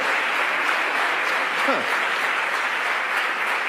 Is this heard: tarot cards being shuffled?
no